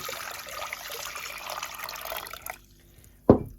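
Warm water pours and splashes into a pot for a cucumber pickling marinade for a couple of seconds, stops, then a short sharp knock or clink follows.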